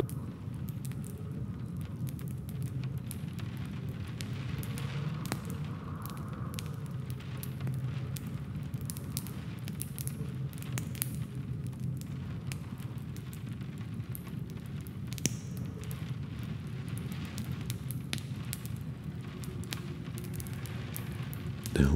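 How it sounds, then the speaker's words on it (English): Steady patter of rain mixed with the soft crackle and pops of an open fire in a cabin, a continuous, even wash of sound with no voices. "where you can hear the raindrops and the flames of the open fire"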